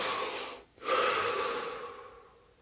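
A deep breath drawn in and let out during a guided body-scan relaxation, a close, soft airy inhale, a brief pause, then a long exhale fading away, with no talking.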